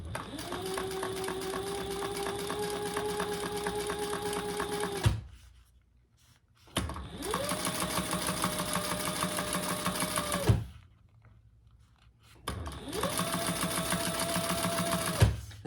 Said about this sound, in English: And you always top stitch your open end first.